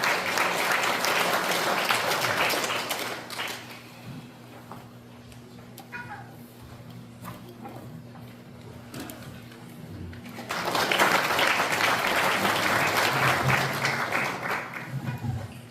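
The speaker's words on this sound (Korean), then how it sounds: "올라오실 때 큰 박수 부탁드리겠습니다." An audience applauds at a Korean Provisional Government commemoration ceremony. Bursts of clapping open and close the stretch, and a quieter middle section carries faint voices and room noise.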